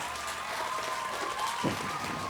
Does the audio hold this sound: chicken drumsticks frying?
no